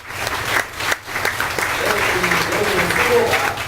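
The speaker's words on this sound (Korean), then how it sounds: "우리 한번 박수 한번 쳐드릴까요?" Congregation clapping in a church sanctuary after a sermon call to honor elementary Sunday school teachers, steady dense applause filling the room throughout, with a brief dip near the start and a pastor's voice faintly underneath.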